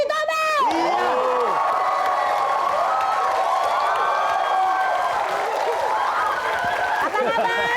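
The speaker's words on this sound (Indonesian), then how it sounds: "Tepuk tangan untuk Jelly Tobe" A crowd claps and cheers loudly at a TV talent show audition, with whoops and shouts rising over steady applause that carries on throughout.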